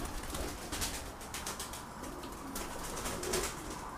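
Pigeons coo softly and repeatedly at a home loft as the birds return from flight, with low calls at a moderate distance over faint ambient noise.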